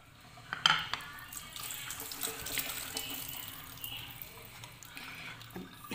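Peeled water chestnuts (singhara) rinsed under a running kitchen tap, with continuous splashing water and occasional clinks of a bowl or utensil, close and steady.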